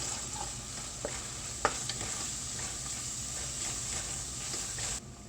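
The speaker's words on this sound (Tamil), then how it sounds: "இப்போ இந்த பூண்டையும் சேர்த்து இதோட பச்சை வாசனை போகிற அளவுக்கு நல்லா வதக்கிக்கலாம்" Garlic paste sautés in a pan for an Ethiopian-style red lentil curry, giving a steady, soft sizzle close up, broken by a few light scrapes and clicks of a spoon stirring.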